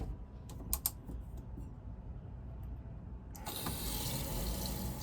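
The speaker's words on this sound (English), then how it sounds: "I'm gonna press the water pump, and the water pump is under the bed." A camper water pump under the bed starts after a few faint clicks and runs as a steady hiss of flowing water that becomes louder and fuller partway through, with no one speaking.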